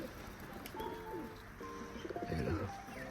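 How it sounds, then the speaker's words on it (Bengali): Caged pigeons coo softly and repeatedly, their low, throaty calls overlapping in quiet bursts close by. "আর আরও পায়রা এই খাঁচাতে আছে"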